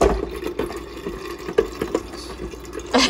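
Blended mint lemonade being strained, with liquid splashing and trickling through a strainer in short uneven bursts, fairly quiet and close.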